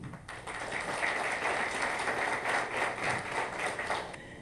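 An audience at a poetry event applauds to welcome poets and guests, a dense steady wash of clapping that holds for several seconds before cutting off, fairly distant and without talk over it.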